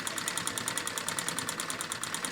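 A Singer 15 treadle sewing machine runs steadily at a brisk, even rhythm of rapid straight-stitch clicks, moderately quiet and without voices.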